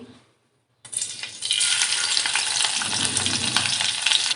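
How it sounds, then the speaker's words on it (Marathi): Peeled garlic dropped into hot oil in a pan for a Konkan-style chicken curry: a short near-silent moment, then a sudden loud sizzle that swells and holds as a dense, steady crackle close by. "तेलावर आपल्याला ही साल काढून घेतलेली लसूण ॲड करायची आहे"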